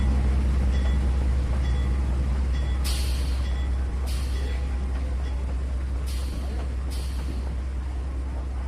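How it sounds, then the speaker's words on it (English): A steady low rumble of a departing train in the video game Trainz 2019, with several sharp hissing bursts of air brakes released at intervals, no voices. "Train is on its way."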